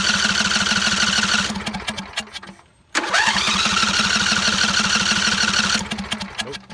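A John Deere engine cranked without choke, its loud chugging cranking bursts stopping briefly then resuming, sputtering without catching, close by and alone.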